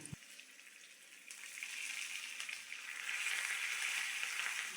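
Dried red chillies, chopped shallots and curry leaves crackle in hot oil as a tempering for Kerala-style rasakalan, a soft sizzling hiss that swells and grows steadier over a few seconds, with no talking.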